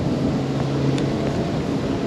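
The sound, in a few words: boat motoring through a canal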